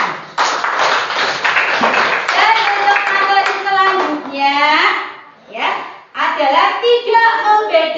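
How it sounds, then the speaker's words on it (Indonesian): Schoolchildren in a classroom clap their hands in quick rhythmic bursts, close and loud, mixed with the bright chatter and chanting of young voices. "Tepuk tangan."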